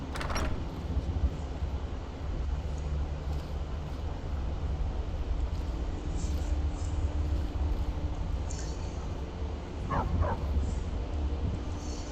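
A dog barks a few times in Skyrim over a constant droning game ambience, the yips brief and set back in the mix, with no one speaking.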